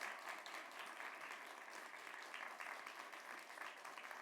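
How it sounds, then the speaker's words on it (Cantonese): A theatre audience at a Cantonese opera teahouse performance claps steadily for the music ensemble, a dense, even wash of applause from a crowd throughout the whole stretch, heard from within the hall. "再俾一次熱烈掌聲，我哋茶館新聲劇團音樂團隊"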